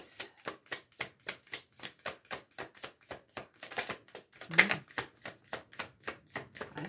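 Tarot cards being shuffled in a steady run of crisp, rhythmic riffles and taps, close and fairly quiet, with one brighter snap partway through and no talking.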